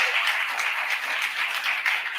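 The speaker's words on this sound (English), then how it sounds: "Let's also give a big round of applause to all the teachers." An audience at a Kid Governor inauguration ceremony claps for the state's teachers. The applause is loud and sustained with a busy, even texture and no pause across the whole stretch.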